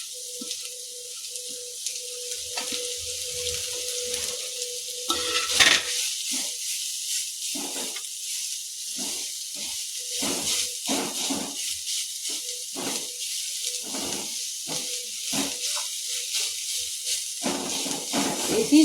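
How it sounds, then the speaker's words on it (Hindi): Grated potato sizzling in a pan over a medium-low flame, a steady close hiss broken by irregular crackles and spatters. "अब इसमें कद्दूकस किया हुआ आलू डालेंगे। इसे 5 मिनट तक मीडियम टू लो फ्लेम पर पकाएंगे।"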